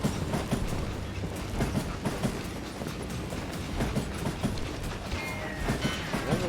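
A train in the Call of Juarez video game rolls along its tracks with a loud, continuous rumble and rhythmic clickety-clack, the steady roar filling the whole stretch.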